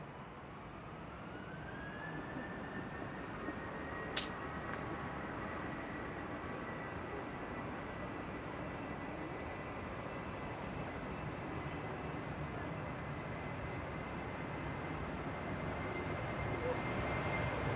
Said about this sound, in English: Ryanair to Limoges is lined up, GRUKM